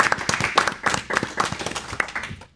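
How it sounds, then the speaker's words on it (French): A small audience claps for students after a poetry performance, quick overlapping handclaps that pulse unevenly and fade toward the end. "On peut les applaudir."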